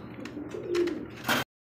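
Rajgolla pigeons coo in soft, low burbling calls close by, ending in a brief louder burst before cutting to silence.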